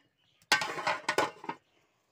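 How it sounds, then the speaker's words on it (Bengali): A lid being set over a pan of rui posto fish curry, a close metallic clatter of several quick rattling knocks lasting about a second, then quiet. "এখন আমি ঢাকনা দিয়ে ঢেকে দেব।"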